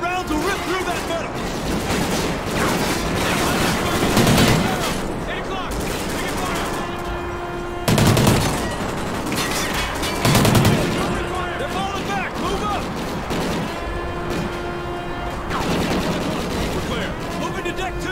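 Bursts of automatic gunfire and heavy shots in the Call of Duty: Ghosts video game, loud and close, coming in repeated volleys with short pauses, backed by rumbling battle ambience and shouted voices.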